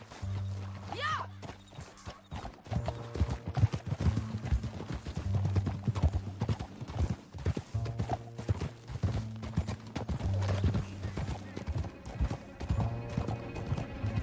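A horse clip-clops at a steady trotting rhythm through a canyon in Red Dead Redemption 2. The hoofbeats are close and continuous, with a low humming tone beneath them.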